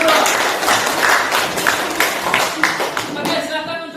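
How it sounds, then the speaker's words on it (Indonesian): An audience applauds a group that has just finished a classroom presentation, a few seconds of steady clapping from a modest crowd, fading toward the end. "berikan aplaus untuk kelompok"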